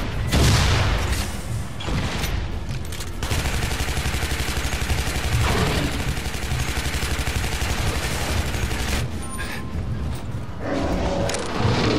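Rapid, sustained bursts of gunfire in the video game Shadow Warrior rattle almost continuously, loud and close, with brief pauses and heavier booms mixed in.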